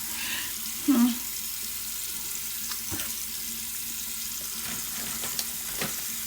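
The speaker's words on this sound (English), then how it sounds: "let me turn my water off" A bathroom tap runs steadily while someone brushes their tongue, a constant hiss of water close by with small clicks and knocks over it.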